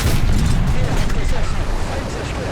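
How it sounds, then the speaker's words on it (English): A Tiger 2 P's 88 mm tank gun fires in the War Thunder game, a heavy booming blast with a long rumbling low tail that fills the whole stretch, loud and close, while a player talks over it. "Man, that new 88 sound effect."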